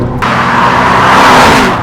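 An Audi RS7 engine accelerates hard with a loud, close, continuous roar that swells for a couple of seconds and stays alone without talk.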